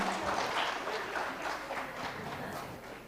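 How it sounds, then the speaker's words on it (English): An audience applauds the winning startup team at a Startup World Cup event in Nepal, a dense wash of clapping that holds steady for the whole stretch and sounds fairly distant. "A huge round of applause, ladies and gentlemen."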